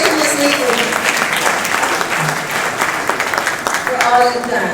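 Applause fills a hall at an anniversary celebration at the Carnegie, a loud, sustained crowd clapping that runs steadily throughout, with voices and cheering mixed in beneath it.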